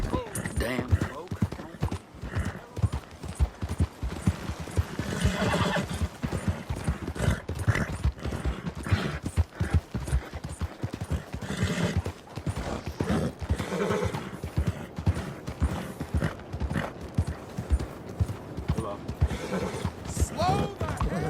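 Horses in Red Dead Redemption 2 neigh and whinny over a steady, busy clip-clop of hooves that runs throughout, with voices sometimes speaking over the game sounds.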